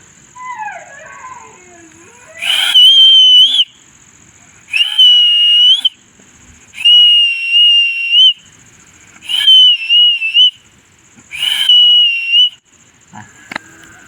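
A man whistles in a village farm setting: five loud, sustained, close whistle blasts with short pauses between them and a faint trailing squeak at the end.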